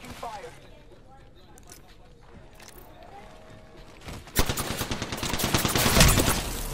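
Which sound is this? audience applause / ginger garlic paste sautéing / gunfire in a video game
gunfire in a video game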